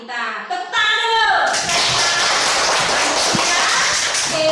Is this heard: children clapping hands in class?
yes